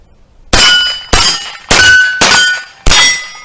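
Five sharp, loud impacts of a 10-22 style rifle firing at steel targets at an outdoor range, each crack followed by a bright ringing decay, spaced roughly half a second apart with no talking.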